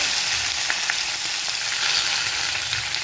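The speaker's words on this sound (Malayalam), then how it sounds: "കടുക് പൊട്ടിക്കഴിഞ്ഞാൽ അതിലേക്ക് കറിവേപ്പില," Curry leaves hitting hot oil where mustard seeds are already spluttering, a loud continuous crackling sizzle with small pops, close and steady with no voices.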